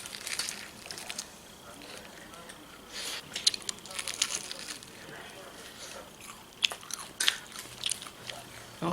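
Food being bitten and chewed up close during a casual home meal, with soft crunchy bites repeating irregularly over quiet background chatter.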